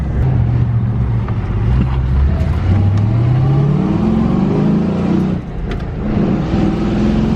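A 2009 Ford Crown Victoria police car converted to a five-speed manual drives along, its engine droning loudly and rising steadily in pitch as it pulls through a gear, then dropping briefly at a shift before climbing again.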